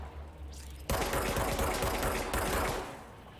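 Rapid automatic gunfire bursts out loud and sustained for about a second and a half in the video game Control, then fades into a lingering hum, with no talking.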